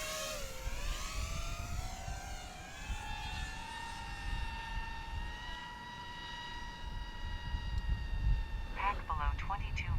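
GepRC Mark4 FPV drone motors climb at 500 watts, a layered tonal whine sweeping upward in pitch and then holding steady over gusty wind rumble, heard from a distance.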